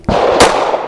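A single loud, sharp pistol shot from a Canik TTI Combat firing Federal Syntec 138 grain fragmenting hollow point ammunition, close by, with a brief ringing decay after the crack.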